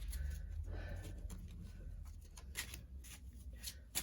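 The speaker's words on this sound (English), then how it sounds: "I'm gonna shuffle again." Tarot cards being shuffled in quick riffling bursts, a soft papery flutter close by with a low background hum.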